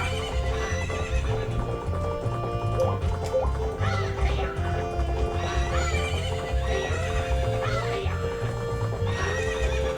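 In the video game Zelda: Majora's Mask, a horse neighs and gallops: rhythmic clip-clop hoofbeats run throughout with whinnies rising over them and a tonal game backdrop beneath.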